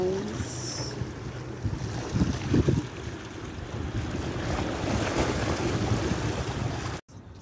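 Seaside waves at Jumeirah Beach in the morning, a steady wash of surf mixed with gusty wind buffeting the microphone, with a few louder knocks and a brief cutout near the end.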